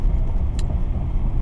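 A Chevrolet Silverado crew cab pickup with a short 5'8" bed runs with a steady, loud low engine rumble throughout, holding a continuous drone with a brief bright click midway.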